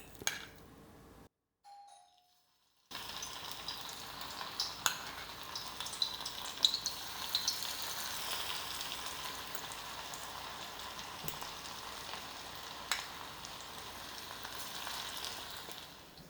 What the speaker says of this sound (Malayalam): എണ്ണ നല്ല തിളച്ച് ചൂടായി വന്നിട്ടുണ്ട് കുറച്ച് കുറച്ചായിട്ട് ഇട്ട് കൊടുക്കാം